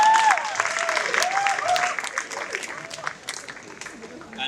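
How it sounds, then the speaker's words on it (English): An audience at a poetry performance breaks into clapping, with scattered claps running under a speaker's voice at first, then continuing as looser, uneven applause. "You can clap for that."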